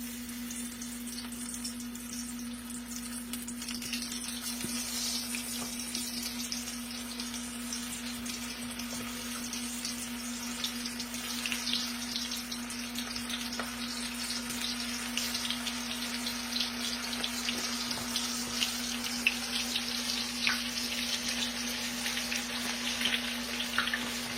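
Steady, crackling sizzle of green tomatoes frying in too-hot grease, close and continuous, with a low electrical hum underneath and scattered sharper pops.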